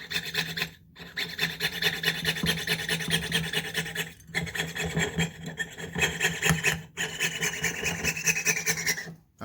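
Jeweler's saw cutting with a continuous rasping, back-and-forth stroke, close and fairly loud, broken by a few brief pauses between runs of strokes.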